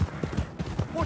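A horse in the Red Dead Online video game walks with an even clip-clop of hooves, close and under a voice.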